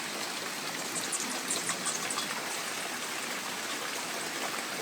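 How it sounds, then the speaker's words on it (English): Steady rain falls outdoors beside a small greenhouse under construction in an October garden, a dense continuous hiss and patter at even loudness throughout, with no voices. "Well, they said it was going to rain, and here it is."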